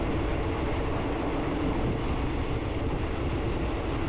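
Ordinary passenger train no. 234 runs between Kaeng Khoi and Saraburi, a loud, steady rumble and roar of wheels and cars passing close by without break.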